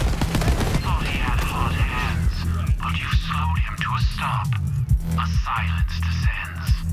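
Rapid bursts of heavy gunfire from big guns in the video game Borderlands 3 crackle in dense volleys over a steady low droning hum and game music, loud and continuous throughout.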